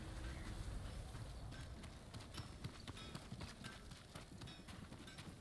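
A thin, malnourished Mongol horse in the game Ghost of Tsushima trotting with rhythmic hoof clip-clops over a dense, noisy background, fairly faint and without talk.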